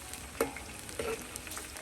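Aromatics and spices for chili oil bubble quietly in hot oil over medium-low heat, a faint steady sizzle broken by two soft stirring clinks.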